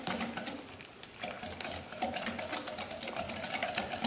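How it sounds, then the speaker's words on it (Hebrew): An electric mixer whisks eggs with sugar in a bowl, a steady buzzing whir with a rattling edge that runs continuously for a few seconds, close and fairly loud. "הנה המטרף שלי, אני טורפת ביחד כמה שניות."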